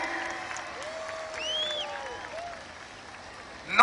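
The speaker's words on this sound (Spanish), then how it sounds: "Un fuerte aplauso, por favor, para recibir a nuestro primer Monster Truck" Applause from the stands at a monster truck show in Monterrey comes through thin and distant, with whistles and scattered cheers sliding over a low crowd murmur before a louder burst at the end.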